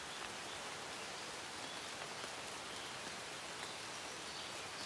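Steady rain falls through a forest at dawn, a dense, even hiss of drops on leaves and ground that stays constant throughout, with no voices.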